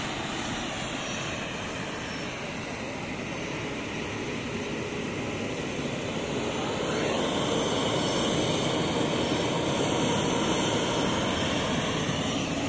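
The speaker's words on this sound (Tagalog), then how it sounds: "Parang eroplano lang yung ano no," An airplane drones overhead near Mariveles, Bataan, a broad, steady engine roar that swells slightly louder midway and holds throughout, with no voices.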